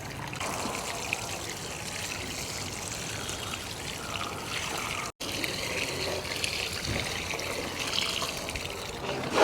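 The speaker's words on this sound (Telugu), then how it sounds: "పెట్టినాక మొత్తం నీళ్ళు నింపుతున్నాను" Water trickles and pours steadily into pots of freshly repotted apple plants, a continuous close splashing flow with one brief break midway.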